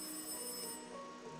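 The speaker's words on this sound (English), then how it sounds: "The office phone rang." An office telephone in the video game My Name is You rings with a faint, steady electronic tone lasting just over a second.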